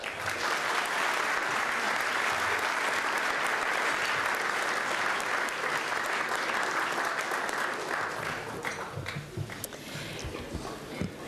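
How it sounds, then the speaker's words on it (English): A banquet audience applauds a sponsor at a charity baseball-themed event, producing a long, full wash of clapping that holds steady and then thins into scattered claps near the end. "please give a round of applause, Sissy's Log Cabin"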